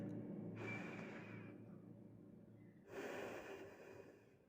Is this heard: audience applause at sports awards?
no